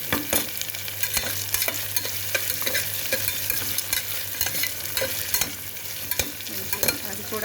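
Chana dal frying in a pan with a constant crackling sizzle and rapid, repeated scraping strokes of a spoon stirring it, loud and close with no talk.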